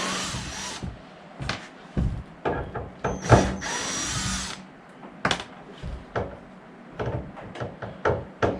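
Power drill backing screws out of a military camper trailer being turned into a cubby house, in several short whirring bursts with knocks and pauses between them, close and loud.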